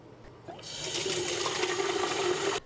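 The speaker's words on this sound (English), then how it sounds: "Make sure you dip the engine into the water past the bendy part of the straws" A small homemade putt-putt steam boat engine built from bendy straws dipped into a tall cut-off bottle of water, making a steady close splashing, filling rush that starts abruptly and cuts off after about two seconds.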